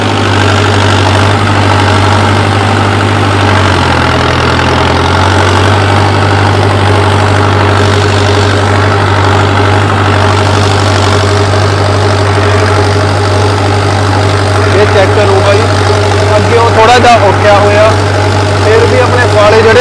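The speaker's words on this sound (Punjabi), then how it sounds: "ਹਾਈ ਦੇ ਪਹਿਲੇ 'ਚ ਟਰੈਕਟਰ ਚਲਾਉਂਦਾ ਬਾਈ ਮੈਂ 1500 ਤੋਂ ਚੱਕਰਾਂ ਦੇ" A tractor pulling a cultivator through a field in first high gear at 1500 rpm gives a loud, close, steady diesel drone with a deep throbbing hum and a brief dip in pitch partway through.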